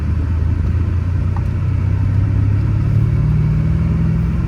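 A Mercedes CL63 W216 engine rumbles steadily at low pitch as the car rolls along a dirt trail, with constant road noise and no voices.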